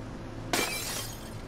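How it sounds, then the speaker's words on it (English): A glass bottle shatters in the Little Nightmares 2 video game, one sharp crash with a brief spray of tinkling fragments over a low steady background hum. "Just a glass bottle."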